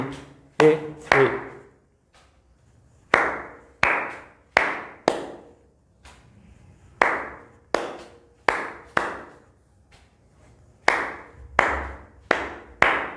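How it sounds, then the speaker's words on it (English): Palmas-style hand clapping in a looping rhythm, sharp and close, with single claps falling in short repeated groups separated by brief gaps, alone without talk. "And now we're going to clap in a loop."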